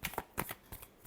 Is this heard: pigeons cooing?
no